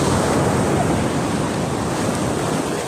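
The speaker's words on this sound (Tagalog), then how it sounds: "Grabe yung laki ng alon, no?" Loud, continuous roar of big ocean waves crashing, thick with broadband surf noise and wind buffeting the microphone, with no voices.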